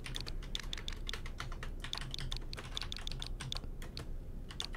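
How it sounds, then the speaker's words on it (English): Keyboard connected to a Nintendo Switch being typed on, with quick, irregular clicks of individual keys at close range, fairly quiet, and no voices. "I do have a keyboard connected to my Switch to make this a little bit easier"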